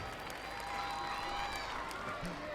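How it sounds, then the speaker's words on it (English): Crowd at the PSA World Tour Finals squash tournament applauding and cheering in a steady wash of clapping, fairly faint and held under a commentator's voice. "The crowd are going absolutely nuts."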